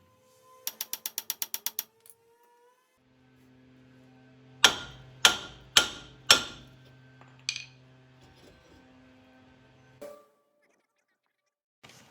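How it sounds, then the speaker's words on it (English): A mallet hammering a seized brake rotor loose on a 2010 Chevy Cobalt, four loud, sharp metallic blows in quick succession, heard up close after a burst of ratcheting clicks, with a fainter knock near the end. "Obviously using the mallet here to try to get the rotor loose."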